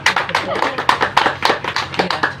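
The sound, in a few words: audience clapping hands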